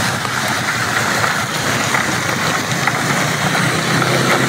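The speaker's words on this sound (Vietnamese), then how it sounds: "Nghe tiếng mưa rơi lộp bộp, lộp bộp." Heavy rain pours steadily over a street in central Saigon near Takashimaya, a dense constant hiss with a low traffic rumble beneath, loud and unbroken throughout.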